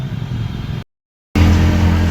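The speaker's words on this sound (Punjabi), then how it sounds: "ਮੋਟਰਸਾਈਕਲ ਬਹੁਤ ਜ਼ੋਰ ਮੰਗ ਰਹੇ ਆ" A motorcycle engine drones loudly and close while climbing the steep mountain road to Naina Devi, cuts out briefly, then returns with a heavier, labored rumble.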